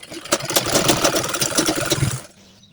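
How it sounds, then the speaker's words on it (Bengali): A sewing machine runs a quick line of stitching through a salwar waistband with elastic, whirring in a loud, rapid, close-up burst of about two seconds before stopping abruptly. "এই মাঝখান দিয়ে জাস্ট একটা সেলাই দিয়ে"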